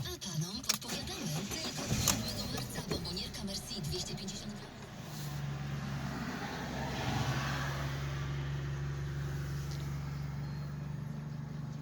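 A Fiat 500 with a 1.2 engine cranks and starts after some handling noises, then settles into a steady, close idle hum.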